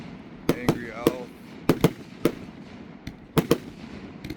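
An Angry Owl firecracker sets off a rapid series of sharp, loud bangs and crackles outdoors. Irregular pops sound close over a faint whistling fizz, and a short burst of crackling closes the sequence.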